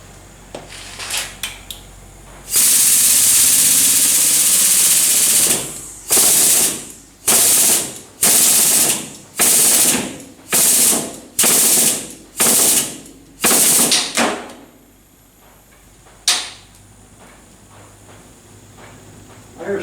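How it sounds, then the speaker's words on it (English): A ratchet strap slipping under heavy tension while pulling a glued-in window on a 1962 Comet donor car: a long harsh ratcheting burst, then about eight loud evenly spaced clacking ratchet bursts, close and alone before fading to quiet. "The ratchet strap's slipping."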